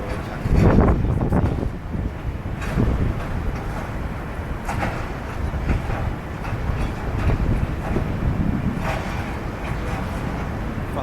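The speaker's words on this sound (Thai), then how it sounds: "ตอนนี้ผมกำลังรอจังหวะที่รถไฟฟ้ามานะครับ มาแล้ว" An elevated Skytrain rumbles past outside a condo building in Thailand with a broad roar and rush of wind, loud and continuous, mixed with gusty microphone buffeting and some faint voices.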